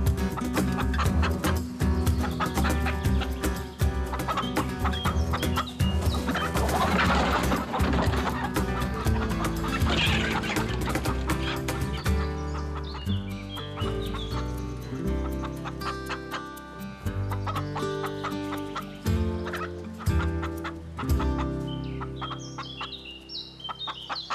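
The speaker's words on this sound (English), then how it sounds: "Milos sets up cages full of quail and chicken" Chickens and quail in cages set out near a forest cabin in lynx country, clucking steadily with occasional crowing, fairly loud and continuous over dense rhythmic background music.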